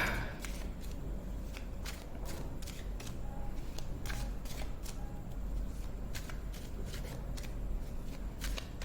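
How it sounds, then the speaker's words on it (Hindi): Tarot cards being shuffled by hand close up, a quiet run of crisp riffling flicks and taps in an irregular rhythm, with no voices over a faint background hiss. "मैं आपके सामने ही गाइस कार्ड शफल करूंगी"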